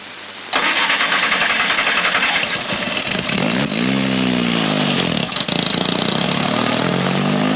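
A V6-engined car cranks and fires up loudly close by, its engine catching with a rising roar and then settling into a steady idle with a brief revving surge partway through.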